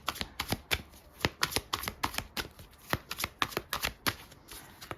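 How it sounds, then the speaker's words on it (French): Four tarot cards are dealt and laid out on a table, giving a quick run of crisp, close card flicks and slaps in a busy, uneven rhythm. No one speaks. "on pose les 4 cartes du tarot"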